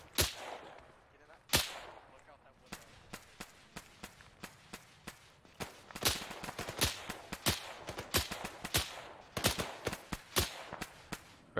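Rifle and machine gun fire in a training scenario, with many sharp cracks, some single and some in rapid bursts, mostly at moderate distance and growing denser toward the end.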